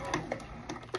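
A sewing machine set to stitch length 3 stitches a set-in sleeve, starting with a backstitch at the underarm side seam, heard as a few short, close mechanical ticks and whirring bursts at irregular intervals.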